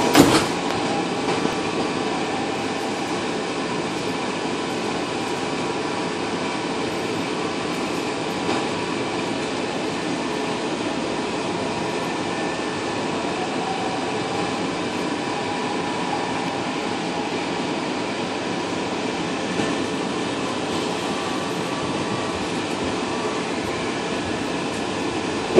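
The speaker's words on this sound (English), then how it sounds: "Welcome aboard the Walt Disney World Express monorail to the Transportation and Ticket Center." Walt Disney World Express monorail running from Magic Kingdom to the Transportation and Ticket Center: a steady interior rumble and hum of the moving train, close and continuous, with no talk.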